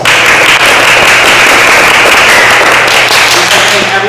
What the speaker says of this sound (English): round of applause for Sai